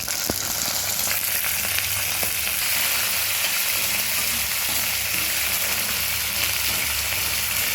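Cumin seeds, chana dal and green chilies frying in a pan for ridged gourd peel chutney, giving a steady, close, even sizzle throughout with a few faint clicks and no voices.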